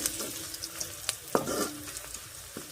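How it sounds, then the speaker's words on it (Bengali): Onions frying in hot oil in a pan with cumin seeds, dried red chilli and bay leaf, a steady close sizzle with light stirring and scraping accents, no talking. "শুকনো লঙ্কা তেজপাতা দিয়ে আলুটা ভাজছি এই সরি পেঁয়াজ ভাজছি"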